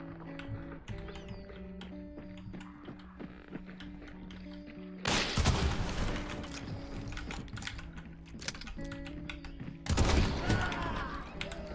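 Romero 77 shotgun fire in Hunt: Showdown, with two loud, sharp blasts several seconds apart standing out over quieter game ambience and clicking.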